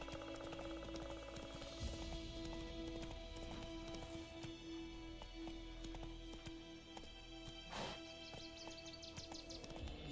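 Roach, the horse in the video game Witcher 3, gallops with a steady run of hoofbeats under dense in-game music and ambience throughout.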